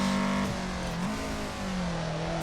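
Toyota AE86 engine revs hard and drops briefly as it flat shifts into third gear. The steady, buzzing note then climbs again and stays loud and close throughout.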